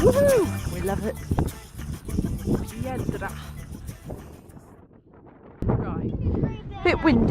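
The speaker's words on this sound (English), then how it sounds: "Bit windy, don't know if you can hear me." Gusty wind buffets the microphone on a beach at El Cotillo, Fuerteventura, rumbling in uneven bursts beneath several people talking and calling out, easing briefly before picking up again.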